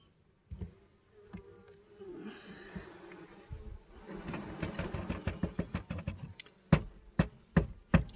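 Package honeybees cluster on their queen in a Langstroth long hive, a soft steady buzzing hum heard up close alongside handling noises and a series of sharp knocks toward the end.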